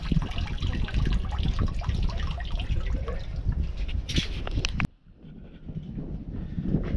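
Water pours and dribbles out of a gold pan during diamond prospecting, a close, continuous wet rush that cuts off abruptly near the end and leaves only faint background.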